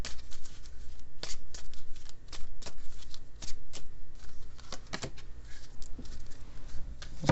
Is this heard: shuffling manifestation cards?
yes